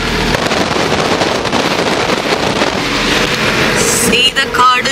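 Rain drums steadily on a van speeding along a road to a forest area, a dense hiss under engine and road rumble throughout, with a few brief sharper sounds near the end.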